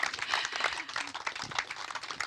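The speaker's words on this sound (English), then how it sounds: "Massive round of applause for you, Charlotte." Dense, steady applause from a seated audience at a BAFTA film Q&A with director Charlotte Wells, a continuous crackle of many hands clapping close and fairly loud throughout, with no pause.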